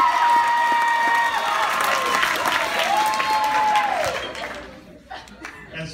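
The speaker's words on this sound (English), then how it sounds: "let's give them a big round of applause" Sustained audience applause with some cheering fills a hall at a PCN 2016 evening gala. The applause runs steady and loud for about four seconds, then thins out and fades toward the end.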